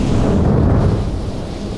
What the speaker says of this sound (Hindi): ये बिजली की आवाज़ सुन रहे हैं